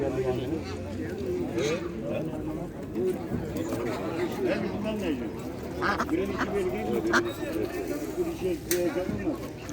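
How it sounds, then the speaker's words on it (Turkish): Ducks quack repeatedly in a noisy cluster at a poultry market in Osmaniye, overlapping with people talking nearby. "Ördekler burada."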